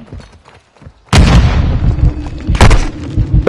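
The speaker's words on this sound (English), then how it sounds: "Throwing grenades" Grenades blow up in a first-person shooter video game, with a loud booming blast that cuts in after a quiet stretch and rumbles on, then a second sharp burst near the end.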